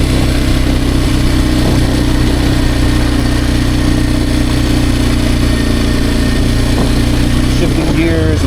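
A Kawasaki KLX230R dirt bike engine runs loud and close in a steady, buzzing drone, with a brief shift in pitch near the end as the rider works through the gears.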